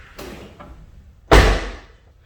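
A Toyota Tacoma SR5 door with newly installed weather stripping swings shut in one solid slam, preceded by a couple of faint taps and handling sounds, close by with no talk.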